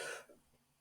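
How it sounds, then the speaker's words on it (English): A single short cough from a man who has COVID, close and brief, fading quickly into quiet. "that's the first cough"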